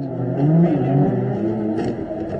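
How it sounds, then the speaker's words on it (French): Formula 1 race car engines of Team Lotus, loud and continuous, revving and droning with rising and falling pitch for the whole stretch, no voices over them. "Dans le vacarme des moteurs"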